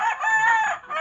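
Chickens on a farm, a close rooster crow rising and falling in about a second with a few clucks around it.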